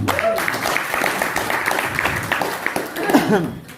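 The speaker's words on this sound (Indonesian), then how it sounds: "Ya, tepuk tangan untuk pemuda ikhlas." Audience applause at a youth organization's anniversary gathering, a steady wash of clapping from the crowd that runs throughout, with some voices and chatter mixed in toward the end.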